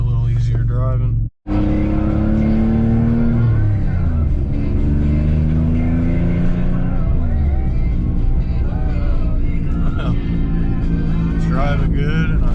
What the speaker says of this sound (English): We're about to take off for a little lap just around the block to make sure everything's working fine.